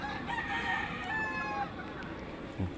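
A rooster among large 45-day-old chickens weighing about five kilos crows loudly once, long and drawn out, with soft clucking and outdoor background noise around it and a brief low thump near the end.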